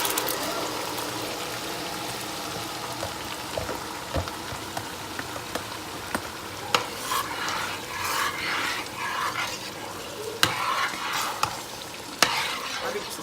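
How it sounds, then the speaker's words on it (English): Steady frying sizzle of peppers in a pan for Ofada stew, a continuous hiss with occasional sharp clicks and pops, close by and moderately loud, no talking. "Sizzle."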